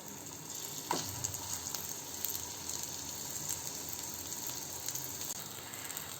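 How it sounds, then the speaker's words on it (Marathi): Semolina patties for a bunless burger shallow fry in a pan, a faint steady sizzle with a soft clink of a utensil near the start. "आता आपण विदाउट पावाचे बर्गर शॅलो फ्राय करून घेऊ"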